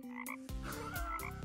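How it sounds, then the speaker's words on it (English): A frog croaks in close, loud bursts: a short call, then a longer, throaty croak with a final rasp, with no other sound around it. "Yes, this is a frog."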